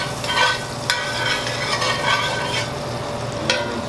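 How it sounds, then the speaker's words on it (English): Butter melting in a pan for scallops crackles in a soft, steady sizzle, broken by a few light clicks and scrapes, with no talking. "Just waiting on the butter to melt."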